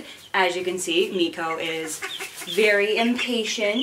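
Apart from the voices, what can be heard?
chickens and ducklings peeping and squawking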